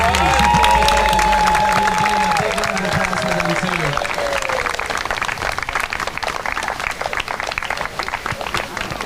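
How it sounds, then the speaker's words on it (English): Spectators at a varsity boys high school soccer game applaud steadily during pregame introductions, with a public-address announcer's voice over the opening seconds, then clapping and crowd noise continue alone. "Big round of applause for Debbie."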